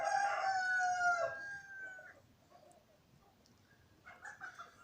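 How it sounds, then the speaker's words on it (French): A rooster gives a loud, close crow with a long, drawn-out final note lasting about two seconds, followed by quiet and then a few softer, short clucks near the end. "en fait, c'est un coq"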